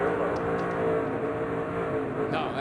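Onboard a 2007 NASCAR Cup Chevrolet stock car, the engine holds a sustained, buzzing drone at racing speed, heard fairly faintly and steadily with slight swells and no clear talk.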